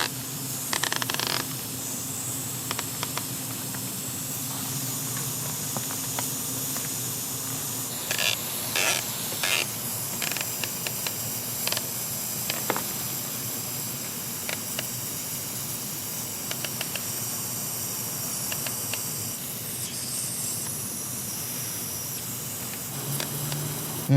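A lawn sprinkler on ratcheting risers sprays water across dirt, giving a steady, continuous hiss that runs throughout with a few brief clicks and spurts on top.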